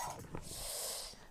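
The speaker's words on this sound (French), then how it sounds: "j'aime bien mon chien, mais si c'est pour me déplumer les oreillers" A dog snorts and pants close up while tearing the feathers out of pillows, a brief rough burst of breathy rustling noise.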